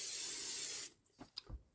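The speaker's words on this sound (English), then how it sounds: "I'm going to take our cooking spray, open this sucker up, spray it all down real good so it don't stick." A can of cooking spray hisses onto an open waffle maker in one steady burst of almost a second, followed by a few soft clicks and knocks.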